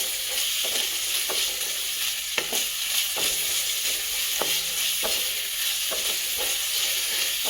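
Onions sizzle in hot oil for mushroom masala, a steady bright frying hiss broken by regular clicks and scrapes of a spoon stirring the pan, close and continuous with no talking.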